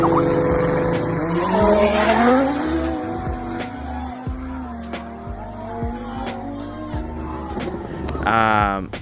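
Street-race cars launching hard, engines revving up through the gears with tires squealing and skidding, loud and close, while people talk over the noise.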